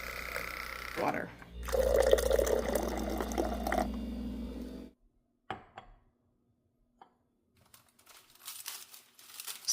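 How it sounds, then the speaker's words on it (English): A hot water dispenser fills a cup for stick coffee, a steady pouring rush lasting several seconds close by, then stopping, followed by quiet with a few small clicks and handling noises. "we have a hot water dispenser"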